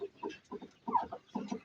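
Several soft, close clucks come in short bursts, a few chickens in a coop murmuring quietly; the flock includes Lohmann Brown and Brahma hens and a rooster.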